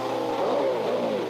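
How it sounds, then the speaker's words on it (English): A 1967 Canadian Grand Prix racing car with sticking throttles entering the pits, its engine droning steadily at mid pitch with slight rises and falls, fairly close and alone. "Chris Irwin coming into the pits now."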